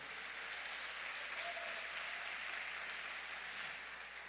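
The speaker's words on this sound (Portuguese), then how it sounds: "dê um aplauso a ele" A church congregation applauding, a soft, steady wash of many hands clapping that sounds distant and even throughout, with no speech heard over it.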